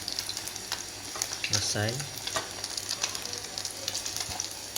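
Catfish frying in hot oil, a steady close crackling sizzle throughout with a short spoken word in the middle.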